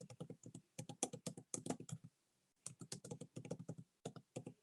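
Fast typing on a computer keyboard during a remote commission meeting, with dense runs of crisp keystrokes in two bursts separated by a short pause, faint and picked up over an open microphone, no voices.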